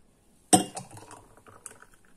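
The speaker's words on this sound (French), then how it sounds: "je vais mettre dans le deuxième verre plus grand et je vais mélanger" Apple juice stirred in a large glass, opening with one sharp clink and followed by lighter, scattered tinkles of a utensil against the glass, close and clear with no talk.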